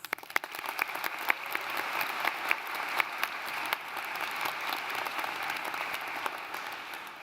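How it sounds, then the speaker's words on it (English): Sustained applause from a large audience at a London undergraduate graduation ceremony, a dense, even roar of clapping that holds steady for several seconds, heard from some distance, with no speech over it. "I think you all deserve a round of applause"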